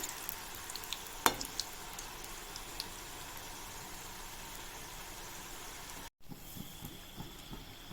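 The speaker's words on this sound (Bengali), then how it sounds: "এইভাবে করে আমরা সবগুলো আলু স্টিকগুলোকে বেজে নেব" Potato sticks fry in hot oil with a steady, hissing sizzle, close but fairly quiet, and occasional small pops and clinks come through. There is a brief dropout near the end, and no one speaks.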